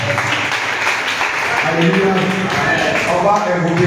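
A church congregation at a night prayer service in Bingerville claps and cheers in praise of Jesus, a steady loud wash of applause and voices filling the room throughout.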